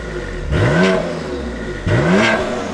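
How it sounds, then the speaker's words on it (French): A 720-horsepower Stage 3+ tuned BMW M2 Competition revs twice, each loud rising blip of engine and exhaust dropping back quickly as the exhaust valves snap shut, heard close by over a steady idle. "On entend les valves qui se ferment."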